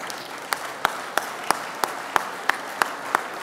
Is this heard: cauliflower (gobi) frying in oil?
no